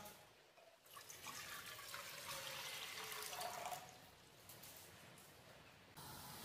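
Three cups of water pour into a pot for masala chai, a steady close splashing and gurgling stream that swells and then tapers off, heard alone without talk.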